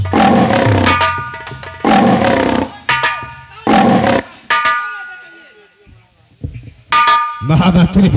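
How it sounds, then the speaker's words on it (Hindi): A lion in a staged folk theatre performance gives several loud, drawn-out roars, each a burst separated by short pauses, with a brief quiet stretch near the end before another roar. "सुना वो शेर दहाड़ रहा है"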